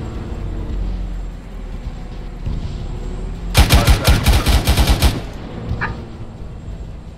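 Gunfire from a military video game, a rapid burst of about a dozen shots that sounds fairly close and loud, with quieter background noise before and after.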